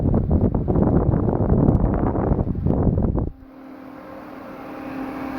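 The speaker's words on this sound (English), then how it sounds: "Pretty powerful computer fan." A powerful computer fan salvaged from a CD duplicator whooshes loudly in a dense, airy rush for about three seconds, then drops off sharply to a quieter whir that carries a faint steady hum.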